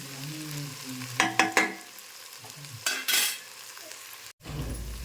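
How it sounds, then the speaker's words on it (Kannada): Potatoes fry in a pan over a medium gas flame with a soft steady sizzle, broken by several sharp scraping stirs of a utensil against the pan and a sudden rumbling clatter near the end. "ಆಲೂಗಡ್ಡೆ ಫ್ರೈ ಆಗುತ್ತಲ್ರಿ ಗ್ಯಾಸ್ ಫ್ಲೇಮ್ ಮೀಡಿಯಮ್ ಇಟ್ಟು ಚಲೋದ್ನೇ ಫ್ರೈ ಮಾಡ್ಕೊಬೇಕು"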